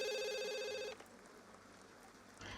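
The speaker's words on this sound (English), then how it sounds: "And the phone is ringing." A telephone rings in the video game The Sims 2, one bright trilling electronic ring that stops abruptly, followed by quiet room ambience and a faint return of sound at the end.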